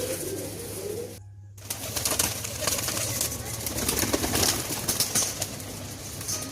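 A flock of pigeons in Delhi coos, with some flapping wings, close by, while someone talks over the birds.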